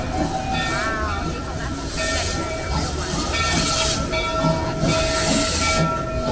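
Knott's Berry Farm railroad steam locomotive 41 chugs loudly and continuously up close, its rapid exhaust beats and hissing steam turning into a quickened rush as the wheels slip, with crowd noise underneath.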